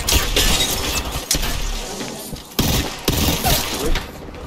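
Video game gunfire in a loud chaotic exchange, several sharp cracks and bursts with shattering, thudding impacts spread over a few seconds.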